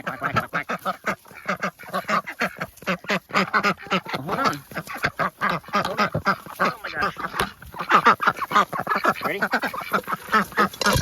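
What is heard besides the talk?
duck quacking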